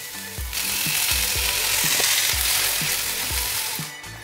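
Onion frying to golden in a pan for a Khandeshi mutton curry gives a loud, constant sizzle, with a rhythmic scraping of stirring repeating underneath.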